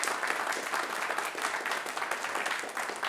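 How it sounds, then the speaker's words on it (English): An audience claps after a conference talk by gingerBill at BSC 2025, a continuous dense burst of applause at even loudness for the whole stretch, with no voices over it. "Can we get another round of applause for Bill?"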